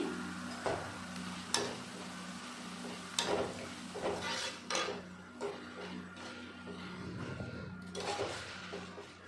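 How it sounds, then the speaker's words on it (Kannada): Cornflakes frying in hot oil at home: a soft, steady sizzle with occasional scraping stirs and sharp clinks of a utensil against the pan, fairly quiet and with no talking. "ಉಳಿದಿರೋದನ್ನು ಇದೇ ರೀತಿ ಆಯಿಲಲ್ಲಿ ಹಾಕ್ಕೊಂಡು ಫ್ರೈ ಮಾಡ್ಕೊತಾ ಇದ್ದೀನಿ"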